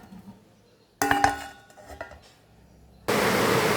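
Metal pot lid clattering onto a pot of simmering fish curry, a bright clanking burst followed by lighter clinks, then a steady loud hiss of heavy rain close by.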